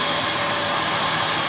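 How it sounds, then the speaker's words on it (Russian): Fan blowing on a waste-oil burning stove, a steady loud broadband whoosh with an even, unchanging roar throughout and no speech. "Но еще вентилятор обдувает."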